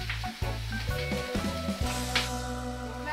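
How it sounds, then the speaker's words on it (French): Small pieces of smoked tofu sizzle in a frying pan with a constant crackling hiss, broken by a few knocks and shifts as they are tossed, all without speech. "on va les faire sauter, on va les faire bien griller dans une différente poêle"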